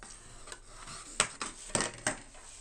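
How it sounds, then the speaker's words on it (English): A large spatula rubs and presses a paper liner onto a notepad folio, making a few short scraping swipes and soft taps, close and quiet, with no one talking. "So I'm going to take my big old spatula. We're going to go in and get this nice and stuck."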